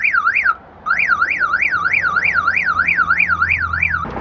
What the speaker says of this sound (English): Mike's alarm's shooting itself because we're tampering with the battery and the car thinks we're trying to steal the S15.